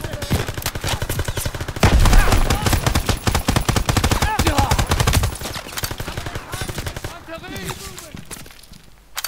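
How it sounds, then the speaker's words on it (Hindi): Rapid machine gun bursts rattle nonstop through a Call of Duty WWII battle mission set in Aachen, with a heavier, louder stretch partway through and a player talking over the shooting. "अरे यार किधर से गोलियां मार रहा है?"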